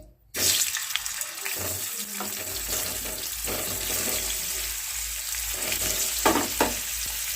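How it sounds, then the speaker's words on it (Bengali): Potato pieces frying in white oil in a pan, a steady close hiss and sizzle that starts abruptly and holds throughout, with a few louder bursts and stirring scrapes. "এবার আমি আলুগুলোকে ভাজা করে নিচ্ছি"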